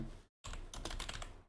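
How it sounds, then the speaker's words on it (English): Rapid keystrokes on a computer keyboard as a short command is entered, a dense run of close, crisp clicks broken by a brief silent gap near the start. "So if I go here and I type npm"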